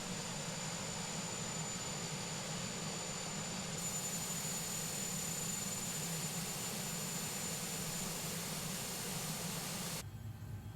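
Short 330 twin turboprop engines running steadily in a flight simulator after landing, a continuous loud droning roar with a high whine that drops abruptly near the end as power is pulled back.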